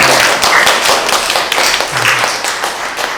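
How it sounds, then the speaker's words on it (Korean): A small gathering at a community cooperative meeting breaks into brisk applause, dense overlapping claps filling the room at a steady close level. "박수가 나올 정도네요"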